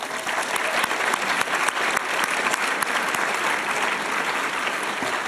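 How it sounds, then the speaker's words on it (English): An audience at a college's fall opening-day event applauds introduced staff members, a steady, even roar of many hands clapping together that holds for over five seconds in a large room. "Let's have a big round of applause."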